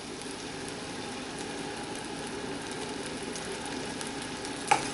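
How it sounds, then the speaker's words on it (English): Ginger garlic paste fries in hot oil in a wok, a steady close sizzle with light stirring, ending in one sharp clink of a utensil, without talk. "Fry it for 2 to 3 minutes."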